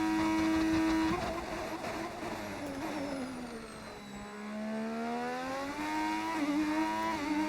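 Formula 1 car engines from the racing game F1 25 at the Las Vegas circuit, a sustained high-pitched whine that rises and falls as the revs climb and drop through gear changes, steady and fairly loud with no voices.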